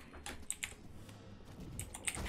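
Computer keyboard typing during a game, with quiet, irregular key presses and clicks tapping close by in a faint, hushed room.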